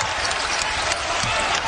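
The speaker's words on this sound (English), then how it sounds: "Crowd rises." A basketball crowd at a Stanford versus Oregon State women's game rises into dense, continuous applause and cheering, a broad wash of clapping that fills the arena without letup.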